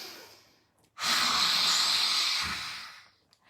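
A dragon breath breathing exercise: one long, forceful exhale hissing out steadily for about two seconds after a quick intake, close and clear, with no talking.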